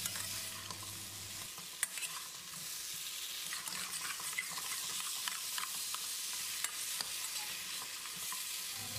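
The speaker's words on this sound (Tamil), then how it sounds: "ஃப்ரை பண்ண சிக்கனில் மசாலா நல்லா கோட் ஆகிற மாதிரி ஒரு 2 நிமிஷம் பரட்டி விடணும்." Fried chicken tossed with masala in a pan, dhaba-style, with a spatula turning it in a steady stream of soft scrapes and clinks over a gentle sizzle, close and quiet.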